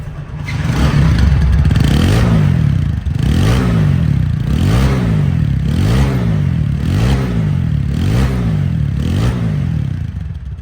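A 2020 TVS Apache 4V motorcycle runs loud and close after a kick start, its engine note rising and falling in a regular rhythm of repeated revs with no voices.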